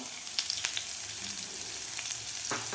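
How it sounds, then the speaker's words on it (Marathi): Sliced onions fry with spices in a pan for restaurant-style veg Kolhapuri, giving a loud, continuous close sizzle broken by occasional stirring scrapes, with no voices. "आता कांदासुद्धा आपल्याला व्यवस्थित दोन ते तीन मिनिट चांगला भाजून घ्यायचा आहे"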